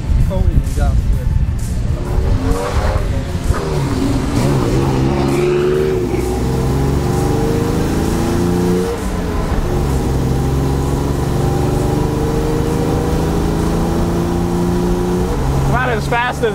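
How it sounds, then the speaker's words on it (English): A Bradley GT II kit car built on a Toyota 4x4 base cruises down a road at highway speed, its engine humming loudly and steadily with rising and falling revs amid road and wind noise. "we're gonna go for a little drive, I guess, and give you a feel for what it is to drive this thing around"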